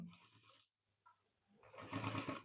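A sewing machine stitches piping cloth onto a dress, running in short bursts with a pause between them. The whir swells near and loud toward the end.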